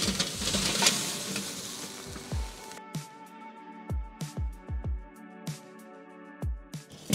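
Hot charcoal briquettes and starter cubes pour from a chimney onto the centre of a Weber Master-Touch kettle grill. A close rushing clatter gives way to scattered sharp clinks and knocks as pieces settle, with no talking.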